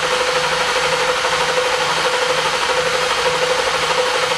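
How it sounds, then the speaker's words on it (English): A six-cylinder engine cranking over on the starter during a labscope test, giving a steady, even rhythmic churn with a faint rattle, close and continuous throughout with no talking. "Now this is crank engine. Go ahead and crank it."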